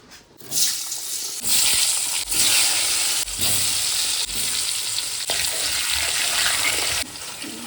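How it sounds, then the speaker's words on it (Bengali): Potatoes fry in a pan with a loud, steady broadband sizzle, broken by a few sharp stirring scrapes and clatters along the way, with nobody speaking. "আলু ভাজাটা হয়ে গেল"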